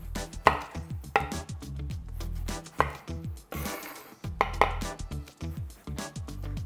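A knife peeling a melon, with close, loud strokes and sharp taps against a board, coming in an irregular rhythm.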